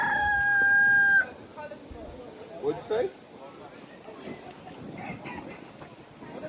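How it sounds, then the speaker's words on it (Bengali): A rooster crows loudly and close by for about a second at a city farm park near London, followed by a low murmur of people talking and outdoor ambience. "ওয়াও কি সুন্দর ডাকতেছে ও এই মুরগিটা কি সুন্দর"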